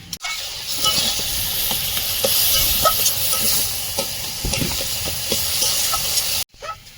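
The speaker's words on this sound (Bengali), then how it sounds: "এবার আলুটা দিয়ে আর একটু নেড়ে চেড়ে নেবো" Potatoes frying in a pan crackle and sizzle loudly up close, with repeated scraping knocks of a spatula stirring them, before an abrupt cutoff near the end.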